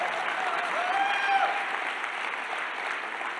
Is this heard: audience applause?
yes